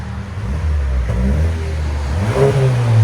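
A 2023 Hyundai Santa Cruz 2.0L turbo engine with dual exhaust, cutout valves closed and resonator deleted, revs loudly up close, its low, throaty exhaust rumble climbing in pitch through a steady rising run.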